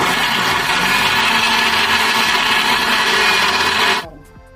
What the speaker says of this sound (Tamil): மசாலா அரைச்சாச்சு.